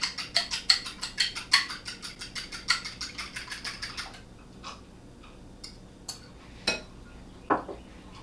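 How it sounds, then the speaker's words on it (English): An egg beaten in a bowl with a fork, a rapid run of close, bright clinking strokes for about four seconds, then quiet with a few scattered clinks and taps. "Give your egg a little beat."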